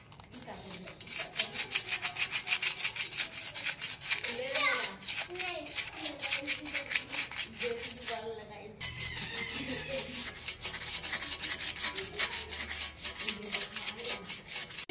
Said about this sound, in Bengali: এবার স্যান্ড পেপার দিয়ে ভালো করে ঘষে দেবো